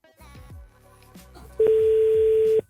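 Redialing through a Cardo FREECOM4+ motorcycle intercom plays a quick run of short phone dialing tones, then a single loud, steady tone lasting about a second.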